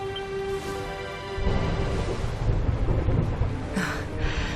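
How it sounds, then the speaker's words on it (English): Thunderstorm in the video game Dragon Quest XI: rolling thunder swells into a deep, sustained rumble over steady rain, with a faint tonal music bed beneath and no voices. "Would you look at it thundering away out there?"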